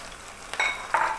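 Garlic and onion sautéing in oil for a bitter gourd thokku, with soft sizzling and two brief bursts of louder frying and stirring in a short stretch without talk.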